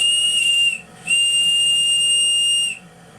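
Steam whistle on the model steamboat gunboat Fulgerul, two sustained shrill blasts, the first brief and the second held much longer, loud and close with a soft hiss beneath.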